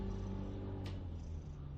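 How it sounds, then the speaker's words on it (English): A cat named Eddie purrs in a low, continuous rumble, close and very quiet, with no voices over it. "Yeah, you can hear it purring."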